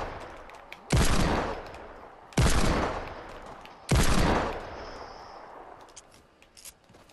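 Three loud, close bursts of burst-weapon gunfire from the Fortnite video game, spaced about a second and a half apart, each decaying into a short echoing tail, followed by faint rattling.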